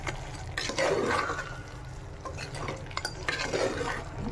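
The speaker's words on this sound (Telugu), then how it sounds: "ఇప్పుడు ఒకసారి బాగా కలుపుకొనేసి వాటర్ అయితే వేసుకున్నాము." Mutton curry being stirred in a pan just after water is added, with soft scraping and bubbling cooking sounds at a steady close-up level and no talking.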